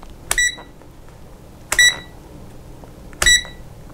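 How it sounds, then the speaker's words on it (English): Three sharp electronic beeps from a Sinometer VC97 multimeter as its rotary dial is turned between ranges, each tone preceded by a click, evenly spaced about one and a half seconds apart, loud and close. "every time you change to a different range, a different mode, it'll beep"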